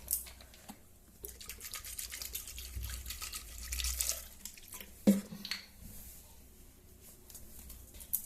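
Water trickles and splashes into a pressure cooker already holding washed vegetables, an uneven close pour with a louder splash midway and faint drips around it.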